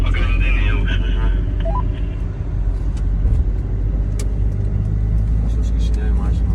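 Camper van on a road trip toward Warsaw driving off, a steady engine and road rumble throughout with faint chirps above.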